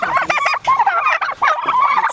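Several turkeys gobbling loudly and close together, rapid warbling calls overlapping in quick bursts.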